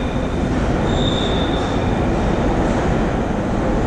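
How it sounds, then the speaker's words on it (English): An underground train rumbles loudly through a station, with a heavy, continuous roar and a couple of thin metallic wheel squeals rising briefly over the steady din. "I'm just waiting for a train"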